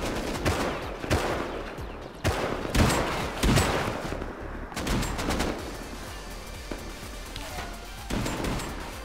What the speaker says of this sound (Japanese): 銃声が鳴り止まない。